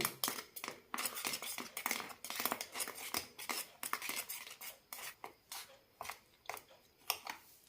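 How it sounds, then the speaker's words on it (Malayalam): Wheat flour and water are stirred together into a sweet dosa batter, with a spoon rapidly and rhythmically clinking and scraping against the mixing vessel, close up and with no talking. "വെള്ളമായിട്ടൊന്ന് മിക്സ് ചെയ്ത് കൊടുക്കാം"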